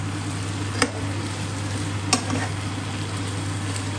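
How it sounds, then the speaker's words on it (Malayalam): Fried velvet chicken with scattered coriander leaves is stirred in a pan: a soft continuous sizzle over a low kitchen hum, with two brief utensil taps against the pan. "ഇതെല്ലാം ഇളക്കി കൊടുക്കാം."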